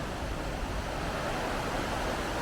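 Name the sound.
river flowing beside walking track, Mossman Gorge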